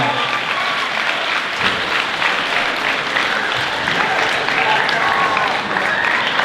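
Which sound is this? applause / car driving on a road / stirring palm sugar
applause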